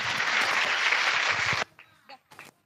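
A crowd at a Sunday School program claps loudly for a student, a dense burst of applause lasting about a second and a half that cuts off abruptly, followed by faint clicks and quiet.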